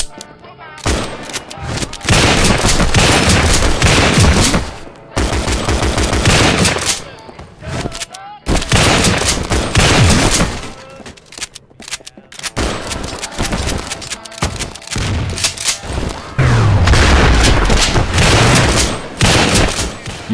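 Gunfire from Double Action: Boogaloo, a stylish action mod game still in beta: dense, loud bursts of rapid shots and booms come in several long volleys separated by brief pauses, with no talking.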